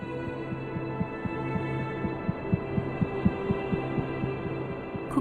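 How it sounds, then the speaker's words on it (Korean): An adult elephant's heartbeat repeats as steady, low, rhythmic thumps over a constant background hum, with no voices. "어른 코끼리의 심박수는 1분에 28회입니다"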